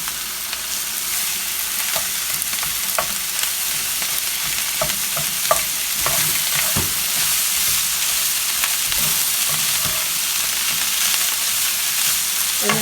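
Collard greens frying in a pan with pork loin juices make a loud, continuous close sizzle, with scattered soft crackles and one sharp clatter of the pan.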